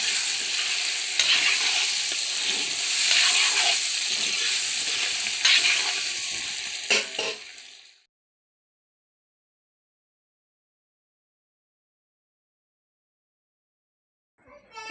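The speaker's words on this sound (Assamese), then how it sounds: "জিৰা গুড়ি আকৌ লৰাই দিছোঁ এনেকৈ।" Cumin powder is stirred into a sizzling frying dish, with a close, continuous hiss and scraping stirs for about eight seconds. Silence follows, then a brief burst of sound returns at the very end.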